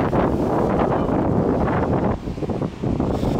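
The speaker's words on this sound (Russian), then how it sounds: "Вы не представляете, какой ветер сейчас здесь." Strong wind on a seaside promenade in central Alanya, a steady loud roar of gusts buffeting the microphone throughout with no talk.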